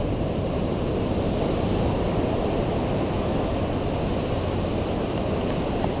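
Ocean surf on the Washington coast, a steady broadband wash of waves breaking and rushing in with wind noise buffeting the microphone throughout, loud and continuous with no talking.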